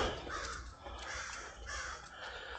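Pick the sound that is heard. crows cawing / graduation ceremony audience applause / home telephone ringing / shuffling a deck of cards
crows cawing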